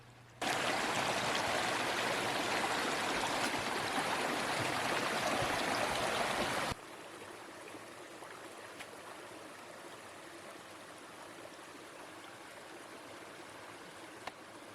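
A low-water mountain stream in summer in North Carolina's high country gives a close, steady rush that drops abruptly to a quieter, thinner trickle partway through.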